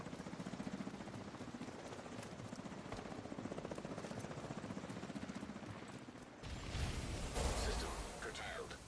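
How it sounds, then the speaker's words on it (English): A helicopter in The Division 2 thrums with a steady rotor chop under game sounds, then a louder burst of noise swells near the end; a voice speaks briefly. "Get on that helo."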